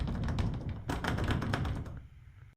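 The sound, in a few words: locking a privacy door lock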